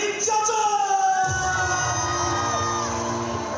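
Crowd of baseball fans cheering and shouting loudly to welcome Taiwanese catcher Lin Chia-cheng at a public appearance, a dense roar of voices with raised yells swelling after the first second and holding steady.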